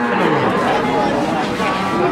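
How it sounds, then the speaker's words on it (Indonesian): Cattle and water buffalo low amid the steady, loud crowd din of the Wakinan livestock market in Pati, Indonesia, where buffalo and cows are set against each other; drawn-out moos rise through the continuous bustle, with voices talking in the background. "Ini kerbau sundangan versus sapi."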